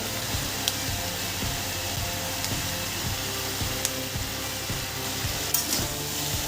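Slit green chillies sizzle and crackle in hot oil in a pan of Bengali mixed vegetable labra, with a steady frying hiss and occasional sharper pops and stirring clicks, close and continuous with no talking.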